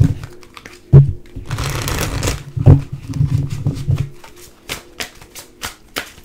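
Fairy Tarot cards being shuffled by hand, with a few sharp riffles and a burst of brisk flapping and rustling, close and clear, with no talking.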